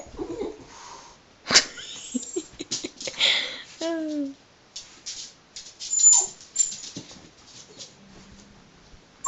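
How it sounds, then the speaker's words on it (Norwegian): A pet dog named Lady whines and yips in short bursts with a few sharper barks, close by, while someone speaks softly to it between the sounds. "Ikke bjeff."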